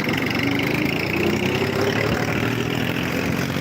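A tractor engine idles steadily close by on a farm, a continuous low rumbling drone with no breaks across the few seconds.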